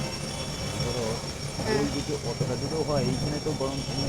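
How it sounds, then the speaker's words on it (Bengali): A low, rumbling drone of a plane passing overhead, heard under ongoing conversation with some background noise. "এই দেখো একটা প্লেনও যাচ্ছে"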